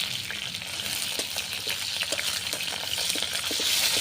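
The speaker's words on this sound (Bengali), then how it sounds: "অল্প করে হলুদ দিয়ে মেখিয়ে রাখা টাকি মাছগুলো এখন হচ্ছে আমি ভালো করে ভেজে নেব" Small taki fish coated in turmeric frying in a pan in a village kitchen, with a continuous crackling sizzle and bubbling, punctuated by scattered pops and stirring clicks, steady and close throughout.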